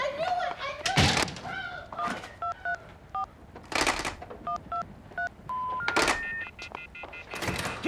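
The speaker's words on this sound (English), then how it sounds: "I'm calling 911" A telephone keypad dials 911 as a string of short, clean electronic tones in quick succession, broken up by a few louder, broad bursts of nearby noise.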